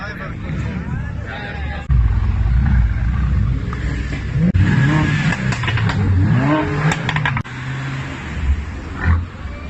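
Cars leaving the Cars & Coffee Slovenia 2018 meet along a seaside promenade in Koper roar past loudly, engines revving in rising sweeps, with a deep continuous rumble underneath.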